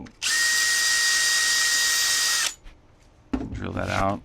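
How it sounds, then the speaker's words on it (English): A power drill whines steadily for about two seconds at a high, even pitch, drilling a Bachmann K27 model locomotive, then stops; a voice speaks briefly afterward. "drill that out"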